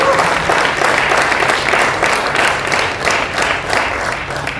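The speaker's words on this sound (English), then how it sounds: "And a big round of applause to ProCam team" Sustained applause from a large audience for the ProCam team at the TCS World 10K Bengaluru event, an even, full roar of clapping throughout.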